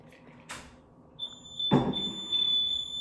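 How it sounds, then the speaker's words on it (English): A household smoke detector sounds a steady, piercing high-pitched alarm tone that begins partway through and continues, with a few knocks and shuffling noises nearby. "they said it's labeled smoke detector"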